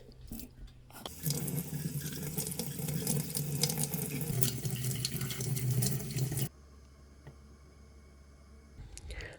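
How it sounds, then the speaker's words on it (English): Tomato seeds being rinsed in a large sieve under a running tap, with a steady close rush of water splashing through the mesh for several seconds before it stops, leaving a quiet room. "Next, I pour them into a large sieve and wash them some more."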